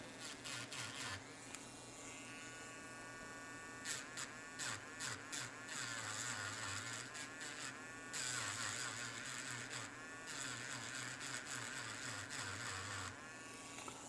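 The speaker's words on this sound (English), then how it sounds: "So we're just kind of grind this flat a little bit." A small grinding tool flattening the leads on an iPhone 11 Pro Max battery, faint high whirring bursts that start and stop in short passes with a pitch that wavers under load.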